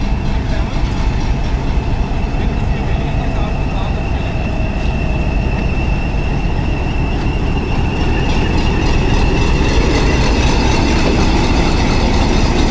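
Rawalpindi passenger train pulling out of Taxila junction station bound for Havelian: loud, close rumble and rolling clatter of wagons with screeching wheel tones, under a busy platform din.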